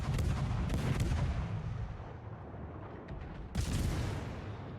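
Guns on a US Omaha-class cruiser fire in the World of Warships video game, with loud booming salvos at the start, near one second and around three and a half seconds, over a rumbling battle background.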